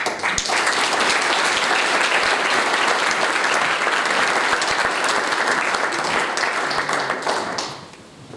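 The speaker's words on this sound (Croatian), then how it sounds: "Begrüßen Sie nun mit mir Frau Dr. Bayraktarevic." A hall audience at a Bosnian academic society commemoration in Austria breaks into steady, loud applause to welcome a speaker. The dense clapping holds for about seven seconds, then fades quickly.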